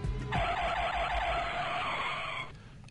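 Car brakes skidding make a single loud, sustained tire screech lasting about two seconds, then cutting off abruptly into a low rumble.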